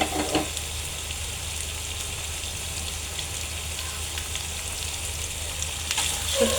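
Dried ribbonfish frying in a pan makes a continuous, moderately loud hiss and crackle with occasional sharper spits, heard alone.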